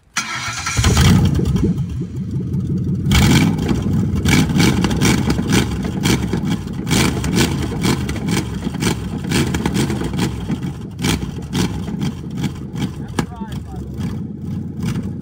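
A Lincoln Town Car with very high mileage runs its engine at a loud steady rumble while someone tries to put it into drive. There is a sharp mechanical change near the start and clunks later on, and a person talks over it at times.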